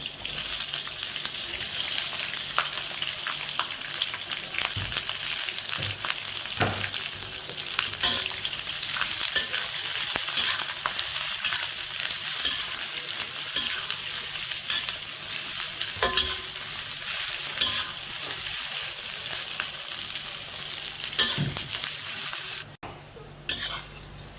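Onion fries in a pan for dhaba-style mud crab masala, a steady loud sizzle with scraping stirs running throughout, with no talk, ending with a brief drop near the end.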